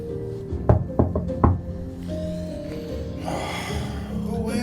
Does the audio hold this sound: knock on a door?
yes